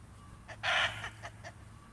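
A hen in a backyard garden gives a short run of clucks, with one louder squawk in the middle followed by a few softer clucks, fairly faint over quiet background.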